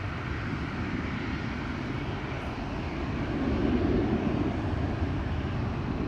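A China Airlines Boeing 737 at Amsterdam Schiphol Airport gives a steady, distant jet engine roar that swells slightly midway, with no speech.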